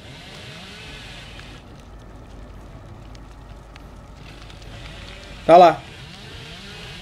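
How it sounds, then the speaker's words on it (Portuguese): A chainsaw being started in the game Dead by Daylight Mobile gives one short, loud, sputtering rev burst late in the clip, heard over steady background game noise while someone talks. "E ele tentando ligar a serra é o mais bonitinho."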